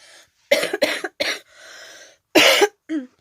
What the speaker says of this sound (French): Je me retiens de tousser, je fais du mieux que je peux